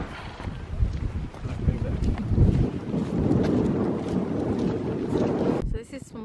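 Blustery wind buffets the microphone in gusty roars with a steady wash of rain-like noise outdoors at Swanpool Beach in Cornwall, ending abruptly.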